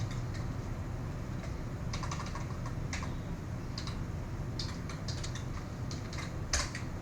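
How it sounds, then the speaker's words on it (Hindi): Typing on a computer keyboard comes through as bursts of light, quick key clicks in uneven clusters over a low steady room hum, close by and moderately loud, with no voices. "कुछ टेक्स्ट को टाइप कर लेते हैं"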